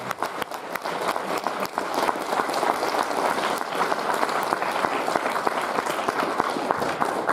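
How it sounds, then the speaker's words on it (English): A conference audience gives a keynote speaker a full round of clapping at the NESC Friday night session, a steady, dense patter of many hands that continues throughout. "Let's give Tevin another round of applause for that wonderful presentation."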